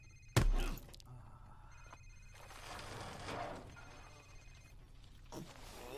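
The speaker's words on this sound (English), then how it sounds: "It's his cell phone." A cell phone rings in a Modern Warfare Remastered campaign mission, a sharp ring near the start followed by quieter game ambience and distant shuffling, with no speech over it.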